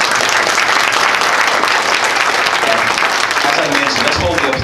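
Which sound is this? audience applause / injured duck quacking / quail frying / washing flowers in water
audience applause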